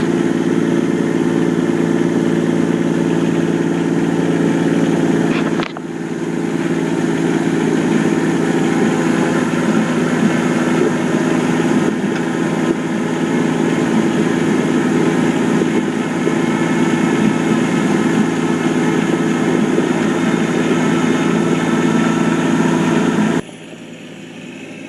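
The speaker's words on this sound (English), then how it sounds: "I'll do a little bit of plowing and put some video of me plowing with it" A tractor engine drones steadily and loudly while it plows snow with a homemade steel plow built from a 4x4 ATV, holding a constant low rumble with a brief dip partway through before cutting off near the end.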